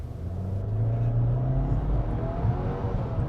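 An all-new 2022 Subaru WRX sports sedan on the road near Kingston, Ontario pulls with a low engine drone that builds, dips briefly and rises again as gears change quickly, heard steadily from inside.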